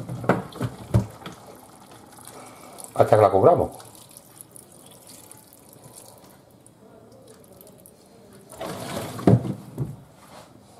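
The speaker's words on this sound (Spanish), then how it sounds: "y ahora vamos a echar el agua" Water pours from a tap into a pot of potato stew with níscalos, cuttlefish and clams in two short splashing bursts, one early and one near the end, with someone speaking Spanish between them.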